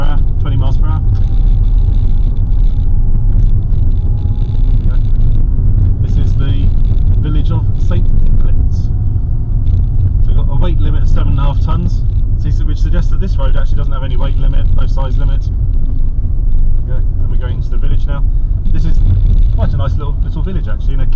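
Car driving along an English country road in Hertfordshire at about 20 to 25 mph, a steady low engine and road rumble running the whole time beneath continuous close talking.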